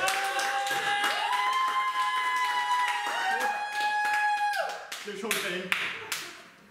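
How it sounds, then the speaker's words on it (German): Scattered clapping and tapping from an audience join singing voices at a performance, hands beating in rhythm under the sustained sung tones before the song trails off. "Applaus, Applaus."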